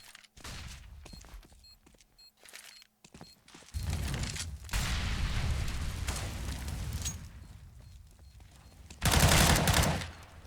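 Gunfire on the Cobblestone map in a Counter-Strike esports match, with scattered shots, sustained bursts of automatic fire and a loud final volley, under sparse commentary.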